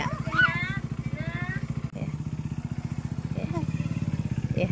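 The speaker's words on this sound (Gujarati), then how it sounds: "બાઇક ચાલુ કરી હોય તો જોજો" A motorcycle engine runs steadily at idle close by at a family home, a low rapid putter under lively talk from several people.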